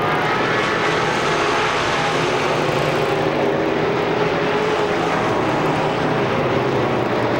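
Race cars at Pennsylvania Motor Speedway in Pittsburgh, running wheel to wheel during a regular feature race, give a continuous loud engine roar that holds steady from start to finish.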